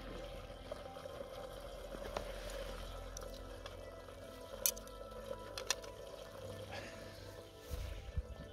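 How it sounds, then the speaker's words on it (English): Sauce bubbling and simmering in a pan over a Trangia camping stove, a steady close hiss with soft popping and faint trickling throughout, a few sharper clicks near the middle and the end. "Now it's starting to sound like it's bubbling"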